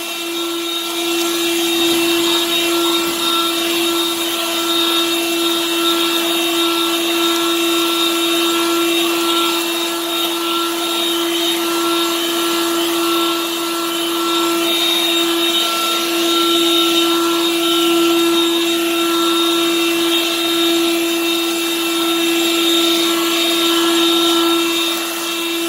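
A Harbor Freight Lynxx 40-volt cordless leaf blower runs steadily, a loud, close, continuous whooshing roar with a strong motor whine that holds nearly constant throughout.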